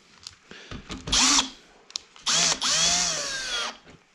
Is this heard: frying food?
no